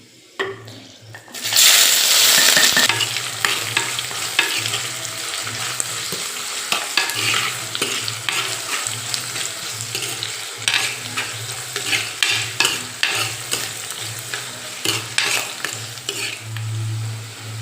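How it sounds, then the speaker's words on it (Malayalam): Fenugreek seeds frying in oil as chopped ginger, green chilli and garlic are added, a loud burst of sizzle followed by steady frying hiss and repeated scraping stirs of a spoon in the pan. "ഇതൊന്ന് മൂത്ത് വരുമ്പോൾ നമുക്ക് അതിനകത്തേക്ക് ഈ അരിഞ്ഞ് വെച്ചിരിക്കുന്ന ഇഞ്ചി, പച്ചമുളക്, വെളുത്തുള്ളി നമുക്ക് ചേർത്ത് കൊടുക്കാം"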